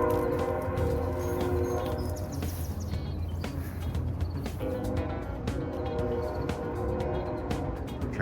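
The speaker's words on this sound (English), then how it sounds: "Trains are loud." A train passes near a backyard garden, a continuous broad rumble and rattle with scattered clanks at moderate distance, with outdoor insect and bird sounds faintly mixed in.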